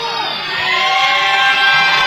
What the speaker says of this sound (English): The crowd was starting to count how long they're up there